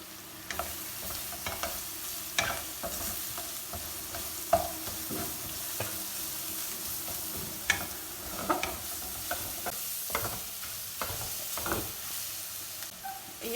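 Finely chopped carrots stir-fried in a pan for noodles or spaghetti: a steady soft sizzle under repeated scraping and stirring clicks from a spatula, fairly quiet and continuous, with no talk.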